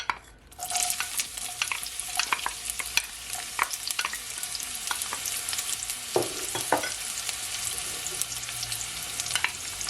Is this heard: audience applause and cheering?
no